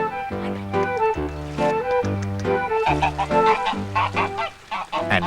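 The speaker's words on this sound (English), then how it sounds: "And Kieran fed the geese, but they were rather fierce." Fierce farmyard geese honking loudly and repeatedly in a steady, rhythmic run of harsh, nasal calls that continue without a break.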